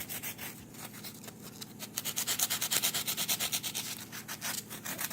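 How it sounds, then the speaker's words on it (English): Steady abrasive rubbing of a sanding disc shaping a carved wooden squirrel head, with a rapid pulsing grind that grows louder midway before easing off. "I have a sanding disc, and I'm just going to kind of shape it with this a little more."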